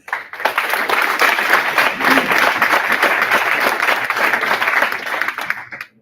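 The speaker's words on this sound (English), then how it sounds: "I would like us to give our government a round of applause." A crowd at a public lecture marking the Luthuli Museum's 20th anniversary applauds with sustained, dense clapping for several seconds before it fades out.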